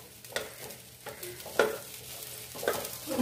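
A spoon stirs boiled chickpea sundal in a pan, with several scraping strokes at a steady rhythm and a light sizzle beneath, close and fairly loud.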